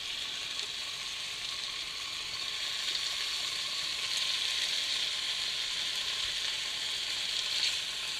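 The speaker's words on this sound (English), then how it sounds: "We're going to put the meat in. And you can hear it start to cook instantly." Filet medallions sizzle steadily in a hot pan, a loud, even frying hiss that holds for several seconds with no talking.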